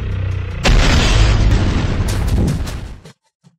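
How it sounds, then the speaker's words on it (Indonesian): A building blown up in a film explosion: a sudden, loud, deep roaring blast that rumbles on for over two seconds before cutting off into silence, with a faint thump after. "Ledakan gedung itu."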